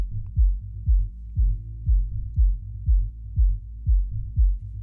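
A kick drum pounds steadily in a reference track, about ten deep, evenly spaced thumps alone with no voices.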